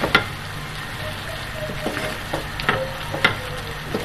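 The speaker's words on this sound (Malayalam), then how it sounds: "ഇനി അതിലേക്ക് ചോപ്പ് ചെയ്ത് വെച്ച പാർസലി ഇട്ട് കൊടുക്കുക. ഓക്കെ, നന്നായി ഇളക്കി കൊടുക്കുക." Chopped parsley stirred into a seafood pasta sauce in a pan, a gentle simmering sizzle with repeated spatula scrapes and knocks at an irregular rhythm, close by.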